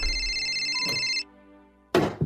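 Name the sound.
cellphone ringing with an incoming call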